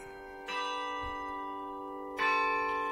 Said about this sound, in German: Vom Turm tönt der Glockenschlag von Londons Big Ben.